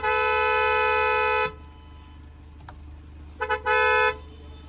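A car horn blares in a long steady honk at the start of a drag race between a Hyundai Creta 1.5 MT and a Kia Seltos 1.5 MT, then after a pause sounds a couple of short toots and another sustained blast, loud and near.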